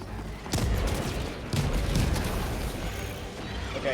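A grenade blast in the video game Helldivers 2 lands as a heavy boom followed by a second thump and rumbling debris, set among ongoing distant gunfire, with no talk.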